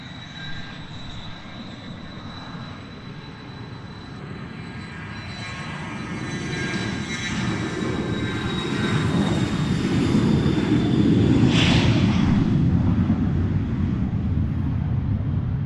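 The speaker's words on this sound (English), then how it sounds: "Looking forward to hearing that PC-12 prop winding up for departure" A Pilatus PC-12 turboprop at London Luton Airport spools up for departure: a steady engine drone with high whining tones swells gradually louder over the clip, heard at a distance outdoors with no speech.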